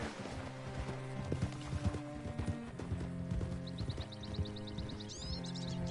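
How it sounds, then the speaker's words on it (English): Horse hooves clip-clop in a steady rhythm while riding in the video game Red Dead Redemption 2, close and clear over a musical background, with a brief neigh among the hoofbeats. "Horse is clean now."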